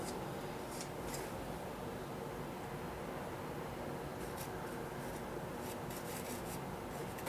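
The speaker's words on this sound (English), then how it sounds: "you just scrape it right off, see that?" A tool scrapes wet pastel medium off a soft pastel painting, a continuous close rasping and rubbing texture that stays steady throughout.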